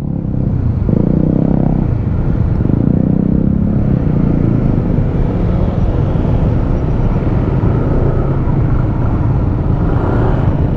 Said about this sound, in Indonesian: Mobil barang udah sampai di sini.